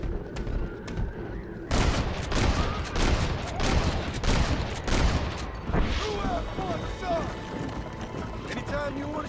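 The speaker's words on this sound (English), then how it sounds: "They're shooting right at me." Red Dead Redemption gunfire erupts in a dense, loud volley of overlapping shots, then thins to scattered reports. Game voices and background noise run throughout.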